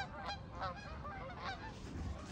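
A flock of geese passes overhead, their repeated honking calls rising in irregular bursts above a steady low outdoor rumble, fairly faint and distant throughout.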